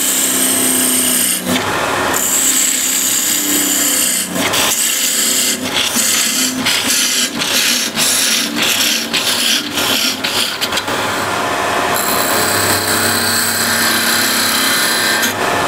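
A wood lathe parts off a turned wooden piece, the tool scraping and rasping loudly and continuously against the spinning wood, with rhythmic bursts of cutting noise up close.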